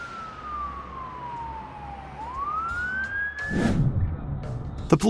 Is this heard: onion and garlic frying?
no